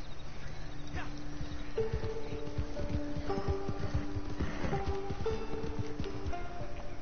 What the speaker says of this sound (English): Horse is acting up for some reason.